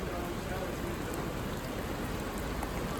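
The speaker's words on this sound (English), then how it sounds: "Well, we got rained out, and now it just keeps on raining." Steady rain pouring during a potato harvest, a dense continuous hiss of drops on surfaces filling the whole stretch, close and even, with no talk.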